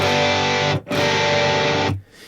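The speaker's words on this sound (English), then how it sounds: "if we add some distortion, you can hear that sometimes those chords sound a little bit too sort of heavy" Minor power chords strummed on an electric guitar through heavy distortion, two loud sustained buzzing chords, each cut off abruptly, with a brief gap between them and a short rest after.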